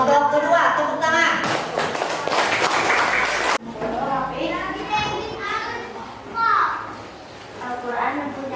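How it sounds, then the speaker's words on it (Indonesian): Students in a classroom break into a short burst of loud clapping, a brief dense patter that stops abruptly, with children chattering and calling out before it and again afterward. "Tepuk tangan."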